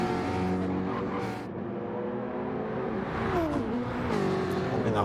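Race car in a racing video game sliding sideways out of a turn at Interlagos, engine revs climbing with a brief tyre squeal and skid over continuous engine noise, with a voice talking faintly underneath.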